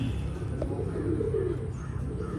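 Medappulli breed pigeons coo in a loft, soft low throaty calls rolling steadily and fairly close over a constant background murmur.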